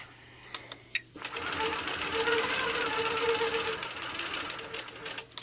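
Sewing machine stitching quilting lines on a quilt block, a few soft clicks then a steady close whirring run of several seconds that stops near the end, with faint voice traces.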